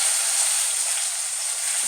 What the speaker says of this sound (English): And we want to get that searing going.